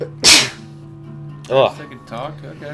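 A single sharp sneeze bursts out close and loud near the start, followed by short spoken exchanges from people nearby.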